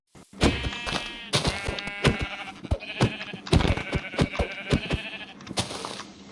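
Sheep in the video game Minecraft bleat repeatedly in short, wavering bursts, close and fairly clear, with several overlapping calls and sharp clicks between them.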